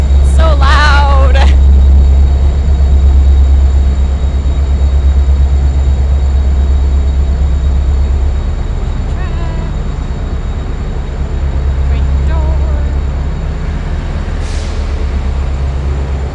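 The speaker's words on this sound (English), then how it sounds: "It's our train again." A train passes close by, a loud low rumble and roar with brief squealing and hissing brake-like tones, steady throughout while a person talks over it.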